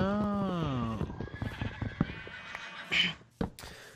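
Minecraft horses: a loud descending neigh opens, followed by scattered hoof clops and brief snorts and whinny fragments, close and without talk.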